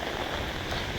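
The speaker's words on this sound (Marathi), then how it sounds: "पावसाला जोरात सुरुवात झालेली आहे, जबरदस्त पाऊस पडतोय." Heavy rain falls at Thoseghar waterfall in Maharashtra, a dense, even rushing hiss with no breaks, fairly quiet and steady, with no voices.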